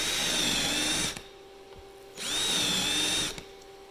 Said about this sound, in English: Get your drill set straight or square.